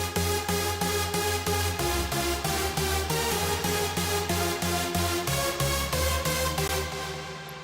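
Raw, unprocessed Porter synth lead preset from a sample pack plays a dense, loud pulsing pattern of rhythmic notes over a heavy low end, steady throughout and fading slightly at the close, with no voices.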